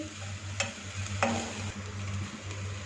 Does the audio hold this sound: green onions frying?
yes